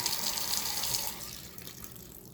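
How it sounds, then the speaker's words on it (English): A faucet runs steadily with a bright hiss of water, then the flow quiets and drops off partway through, leaving a softer trickle. "Hot water comes on, turns off. Cold water turns on,"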